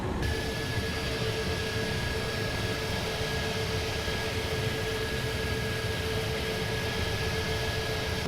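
A Microsoft Flight Simulator 2020 airliner descends to land with full flaps, giving a steady, loud broadband roar of rushing air and engine with a constant whine running underneath and no voices.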